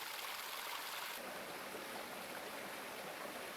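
A Pyrenean mountain torrent rushes in a steady, dense roar of flowing water, close and continuous throughout with no voices.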